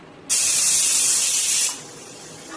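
Pressure cooker whistle releasing steam in a home kitchen, one loud sharp hiss lasting about a second and a half before cutting off, close by with no talking.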